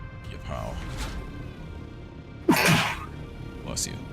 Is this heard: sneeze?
yes